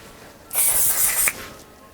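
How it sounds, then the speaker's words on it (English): One Size Beauty setting spray mists onto a face in a single close, sharp hiss lasting under a second, set against quiet room tone. "You know we have to go in with the One Size Beauty setting spray."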